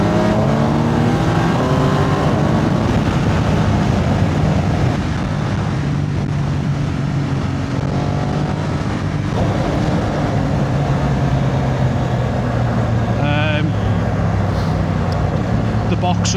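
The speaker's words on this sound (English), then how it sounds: "The Boxer engine." A BMW R1250 GS Adventure's boxer engine while riding, a steady droning engine note with rising and falling pitch as the rider shifts, mixed with wind buffeting and some talking.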